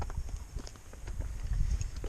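Horse hooves clip-clopping at close range during wire gate work, an uneven run of soft thuds and scuffs that grows slightly denser toward the end, with no speech over it.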